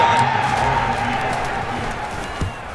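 Stadium crowd in the Madden NFL 23 football video game cheers and applauds after a defensive stop, a loud, sustained roar that slowly fades.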